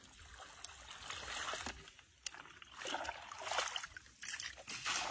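Water being bailed and emptied out while catching lobster, with close trickling, sloshing and splashing that comes in uneven surges against a watery background and no talking.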